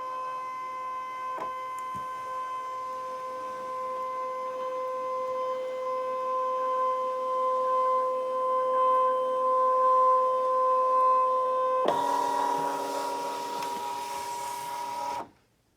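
A Brother ScanNCut2 cutting machine runs a direct cut, giving a steady close motor whine with tonal hums that shifts to a louder, rougher buzz near the end before stopping abruptly.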